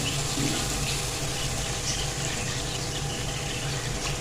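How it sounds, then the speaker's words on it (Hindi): About half a cup of water poured into a pan of cooking dhaba-style fried daal mash, a loud, steady, gushing splash that fills the whole moment, close up, with no voices. "तकरीबन हाफ कप जितना पानी डालेंगे"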